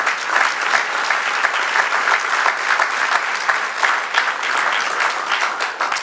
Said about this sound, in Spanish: Aleluya, dale el aplauso.